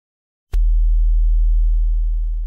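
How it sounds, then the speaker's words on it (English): A steady pure sine wave tone starts abruptly after a moment of silence and holds evenly, with faint ticking artifacts appearing later. "Let's start with a pure sine wave."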